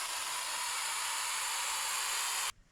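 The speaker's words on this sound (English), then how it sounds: "Spray this edge." A can of 3M spray adhesive hisses in one steady, close, continuous blast onto an edge during Honda Odyssey repairs, then cuts off abruptly.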